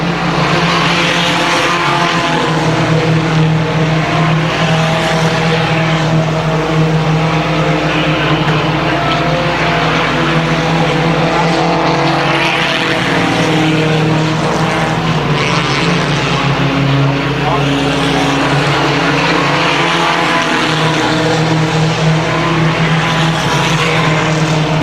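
Race cars circle Columbus Motor Speedway in a main event, a loud continuous engine roar with rising and falling passes and occasional tire noise, dense and unbroken throughout.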